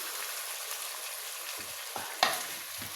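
Chicken pieces and potatoes are stirred in a pot over a steady sizzle, with a few scraping and knocking strokes of the spoon near the end, close and moderately loud.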